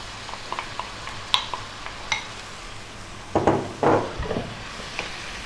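Fresh tomato goes into a hot pan with Indian curry spices, bringing a soft sizzle with clinks of a utensil against the pan and a couple of louder scraping stirs.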